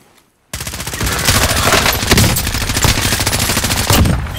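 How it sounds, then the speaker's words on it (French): Dense automatic gunfire from Call of Duty: Modern Warfare bursts in after a half-second of silence, loud and continuous with rapid overlapping shots and cracks for the rest of the stretch. "Je me fais tirer dessus."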